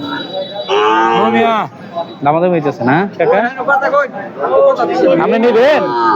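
Loud, drawn-out cattle moos close by, several calls in a row, at Bormi Bazar cattle market, mixed with a crowd of people talking in the background.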